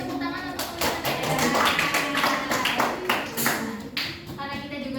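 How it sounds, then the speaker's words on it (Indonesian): Schoolchildren in a Grade 6 elementary classroom break into a burst of clapping that continues for several seconds, with voices and chatter mixed into the applause. "Beri tepuk tangan untuk"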